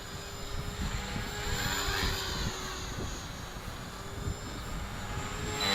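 A 450-size flybarless RC helicopter flies loops in wind, its rotor and motor making a steady whirring buzz that swells and fades slightly at moderate distance. No one speaks.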